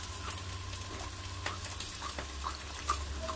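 Pickled mustard greens and scallion pancake sizzle and crackle as they fry in oil in a pan, a steady frying hiss with scattered sharper pops and spatters throughout.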